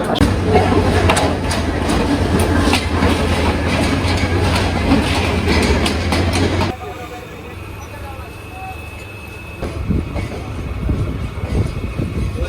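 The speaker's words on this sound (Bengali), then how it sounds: "আমাদের ট্রেন চলে আসছে" A train rumbles into a station on the Gafargaon to Dhaka route loudly with heavy clattering and wind noise, then the roar drops sharply as it slows at the platform.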